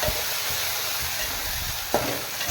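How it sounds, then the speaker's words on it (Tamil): Tomatoes and onions sauté in a pan for a potato masala, with a loud continuous sizzle and occasional stirring scrapes close by. "இப்போ தக்காளி போட்டுக்கலாம் தக்காளி கொஞ்சம் நல்லா வதங்கிட்டோம்"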